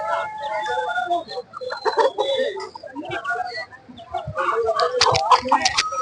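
Hens and roosters at a poultry farm in Anantapur cluck steadily nearby, with occasional louder squawks and bursts near the end, while someone talks intermittently over them.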